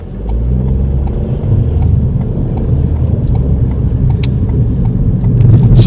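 Steady engine hum and road noise inside a car moving around a roundabout, a constant low drone at even volume with no talking.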